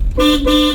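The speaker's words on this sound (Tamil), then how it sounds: "ஹார்ன் அடிக்கணும்" A learner driver's car horn gives two close, loud blasts of a bright tone during a driving lesson, with the second held slightly longer than the first.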